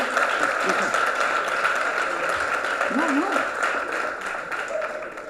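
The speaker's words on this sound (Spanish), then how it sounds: "Me habéis aplaudido innecesariamente" An audience applauds after a political speech at a revolutionary meeting, with steady, dense clapping lasting throughout while a voice talks over it.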